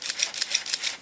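A Contax G film camera fires its shutter and motor in a rapid run of about six crisp, evenly spaced clicks, close and clear with no voices.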